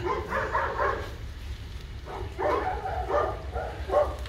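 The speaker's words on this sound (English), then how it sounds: "Dogs going crazy." Several dogs bark in quick excited bursts, a cluster of yaps, a short pause, then another flurry of barking at moderate distance.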